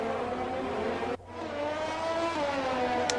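An F1 2020 video game race car pulls out of the pit stall on hard tyres, its engine whining in a rising, steady tone that briefly cuts out before climbing again, fairly close and alone.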